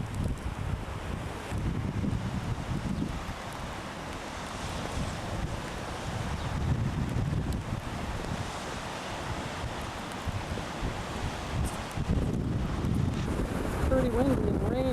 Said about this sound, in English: Pretty windy and rainy here